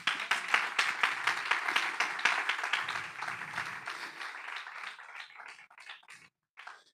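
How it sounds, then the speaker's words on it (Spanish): A church congregation applauding during a Spanish-language sermon, dense clapping that starts full and gradually thins out to scattered claps before fading into silence. "Dale un aplauso al Señor"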